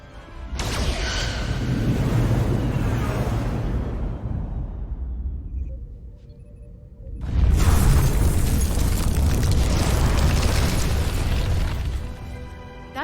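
Starship weapons fire and explosions in the Star Trek: Resurgence video game, two long thunderous booming barrages separated by a brief quieter lull, loud and close with rumbling low end.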